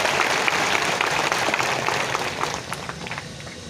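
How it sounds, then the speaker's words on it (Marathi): Crowd clapping to honour guests at a public gathering in Jamkhed attended by Maharashtra's Deputy Chief Minister Ajit Pawar and former Chief Minister Ashok Chavan, a dense burst of applause that fades slightly toward the end. "तर मला असं वाटतं एकदा टाळ्या वाजवून यांचा परत एकदा आपण सत्कार करावा"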